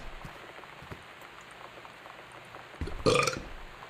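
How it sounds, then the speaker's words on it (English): A person lets out a single short, raspy belch near the end, loud and close, after a stretch of quiet background noise. "As I belch."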